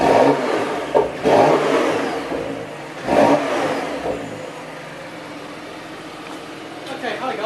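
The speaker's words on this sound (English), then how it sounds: "You probably can hear the exhaust making a great crackle." A Porsche Macan Turbo SUV's exhaust blares through two sharp revs with crackling bursts, then settles to a lower idle burble, loud and close with speech faintly present.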